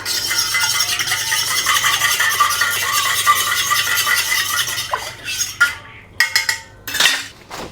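A spoon stirs a coconut water electrolyte drink in a container, a steady scraping, clinking swirl that runs for several seconds before breaking into a few separate clinks and taps near the end.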